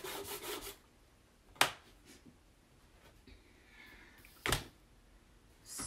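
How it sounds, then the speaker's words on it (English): A scraper tool scrapes chalk paste off a surface in a few faint, dry rasping strokes, with a couple of sharp knocks standing out over quiet room background. "You can just scrape off the paste and wipe it up."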